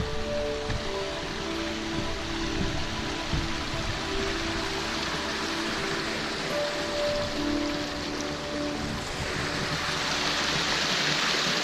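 Steady rushing water from Dove Creek near Cradle Mountain, flowing strongly after rain and snow, a continuous broadband wash with no voices, fairly quiet overall.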